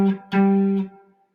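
Short western swing electric guitar phrase in G, quoting the original fiddle line: two sustained notes picked up close, the second ringing longer before fading out.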